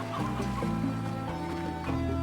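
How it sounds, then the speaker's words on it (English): Chickens cluck in the video game Slime Rancher, a few short clucks over a steady tonal game soundtrack. "I hear chickens."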